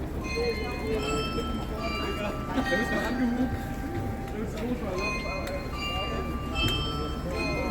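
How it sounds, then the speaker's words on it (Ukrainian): The Munich town hall bell ringing on a Christmas evening, repeated bright metallic tones over a busy murmur of crowd chatter, moderately distant and continuous. "Дзвін на ратуші."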